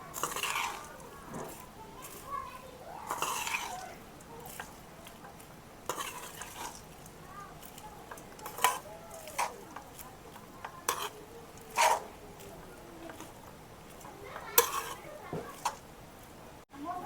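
Intermittent scraping and clattering of a spoon stirring a dry corn chevdo snack mixture in a pan, with a faint sizzle and occasional background sounds.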